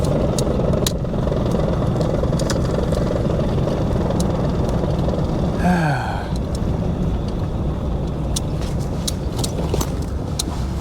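A truck with a swapped-in Cummins diesel engine runs in a steady, loud drone throughout, with a brief rising and falling whine in the middle and a slight dip in level afterward.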